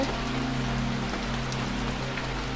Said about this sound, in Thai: ก็ฝนนะสิลินไม่มีท่าทีจะหยุดเลยอ่ะ